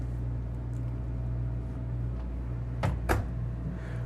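A medicine cabinet door in the bathroom of a 2024 Renegade Verona 40VRB RV opens or closes with two quick, close knocks less than a second apart, over a steady low hum.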